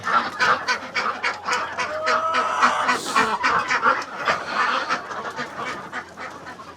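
Chickens and ducks being let out of their coop in the morning make a busy, overlapping chorus of honking quacks and clucks, close and loud, continuing without pause.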